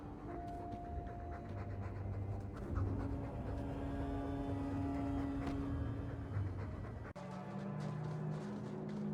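A dog pants steadily from the video game Dragon Age 2, rhythmic breathy puffs held fairly close over a low game ambience, with no talk.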